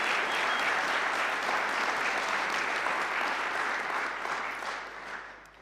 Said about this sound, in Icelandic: Og ef við gefum öllum gott klapp og vonum að heyri í okkur.